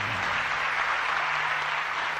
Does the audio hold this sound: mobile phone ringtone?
no